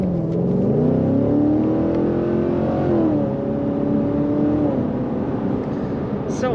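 A 2018 Chevrolet Corvette Grand Sport convertible with an automatic transmission and its top up accelerates. The engine tone is loud and steady, rising in pitch, easing briefly, then climbing again.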